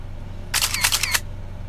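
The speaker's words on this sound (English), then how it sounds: "We have to take a reunion selfie." A camera shutter fires once during a reunion selfie, a short bright mechanical click-and-whir burst of about half a second over steady low background hum.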